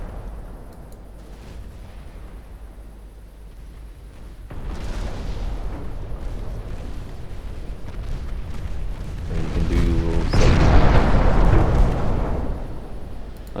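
Five-inch naval guns fire in a naval warfare game, with continuous rumbling salvos and booms building in intensity, heaviest near the end, under a steady background roar.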